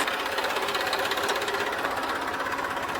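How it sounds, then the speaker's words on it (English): A tractor engine runs on a farm, a steady, dense mechanical clatter that holds at an even loud level throughout with no voices. "You want to go on a spin on the tractor around the farm?"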